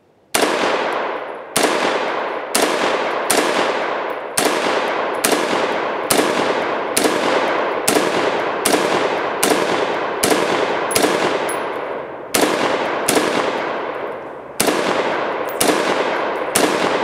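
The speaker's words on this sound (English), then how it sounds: "I am going to celebrate by shooting the shit out of this gun." A gun fired repeatedly for New Year's, loud close single shots spaced about a second apart, each ringing out with a long decaying echo, with a couple of brief pauses.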